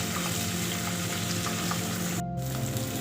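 Potatoes and flat beans fry in a pan with a steady, close sizzle, with a brief stirring scrape near the end.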